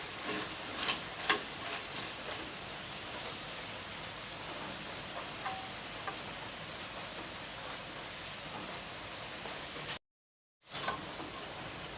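Chickpeas deep frying in hot oil for homemade chanachur, giving a steady, dense crackling sizzle like light rain that runs evenly throughout, broken by one brief silent gap near the end.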